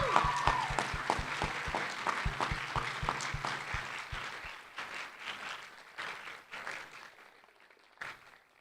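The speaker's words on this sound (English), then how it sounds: "Let's give them all a big round of applause." Audience at a university awards ceremony claps for award winners, a brief burst of loud clapping that thins out and fades over several seconds, with scattered claps trailing at the end.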